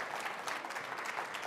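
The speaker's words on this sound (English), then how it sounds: "We have a standing ovation." Dense, steady applause from a large keynote audience on its feet in a standing ovation, continuous clapping filling the hall throughout with no break.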